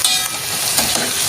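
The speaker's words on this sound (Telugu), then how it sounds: "ఈ వంకాయలన్నీ ఒకదాని తర్వాత ఒకటి ఇలా తిప్పుకోండి." Stuffed brinjals for gutti vankaya curry sizzling loudly in a hot pan as they are turned, a dense, continuous crackle with a few brief stirring scrapes.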